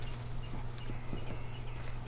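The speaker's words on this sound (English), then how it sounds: "That's probably somebody's horse." Horse hooves clip-clopping in the Red Dead Redemption 2 video game, a steady run of close, fairly loud hoof strikes over a constant low background hum, with no talking.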